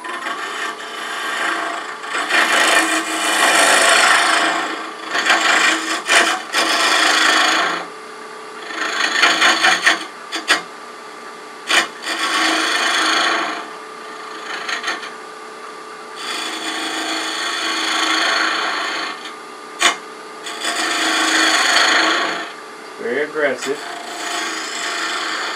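A wood turning gouge cutting cherry burl on a lathe, giving loud rasping, hissing scrapes in repeated long passes with brief pauses between them, close and without speech.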